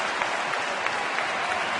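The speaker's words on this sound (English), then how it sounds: "a standing ovation from the Miller Park crowd" Baseball crowd at Miller Park on its feet giving a standing ovation, steady broad applause and cheering filling the whole stretch, dense and continuous with a few louder bursts.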